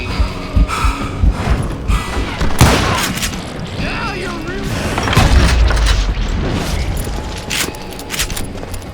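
Shootout gunfire in the Western game Call of Juarez Gunslinger, loud booming shots and clattering bursts layered over a dense mix with narration running throughout.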